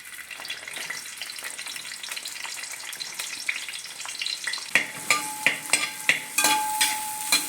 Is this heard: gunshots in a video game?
no